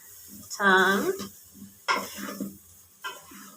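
Boiled arrow roots (nduma) are stirred with onions and garlic in a pot, giving soft scraping and sizzling stirring sounds in short bursts, with a brief tonal clink or squeak and some murmured speech.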